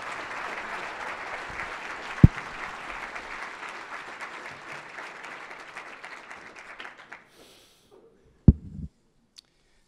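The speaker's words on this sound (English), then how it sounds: "Another round of applause for them." Applause from a conference audience at an annual session: sustained clapping that fades out over about seven seconds, followed by near silence and a couple of sharp isolated knocks.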